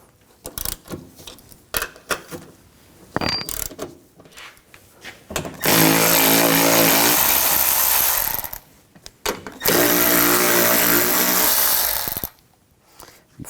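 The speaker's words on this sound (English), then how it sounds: "Using a 13mm socket, we're going to take these nuts off." A 13mm socket wrench loosening the strut nuts on a 2000-2006 BMW X5, heard as sharp metallic clicks and knocks followed by two long, loud stretches of dense grinding noise, like a power tool running, separated by a brief pause.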